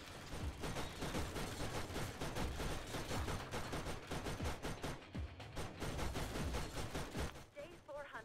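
Rapid automatic turret gunfire from the Borderlands shooter game, dense and loud with repeated bursts running nearly continuously, with a voice talking over it.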